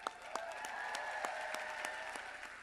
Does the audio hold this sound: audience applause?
yes